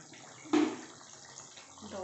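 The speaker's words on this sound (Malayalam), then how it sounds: "അപ്പം നമ്മൾ പതുക്കെ വെള്ളം ഒഴിച്ച് കൊടുക്കുക." Water poured from a glass into a pot of country chicken rasam: a short splashing burst, then a faint trickle, fairly close and soft.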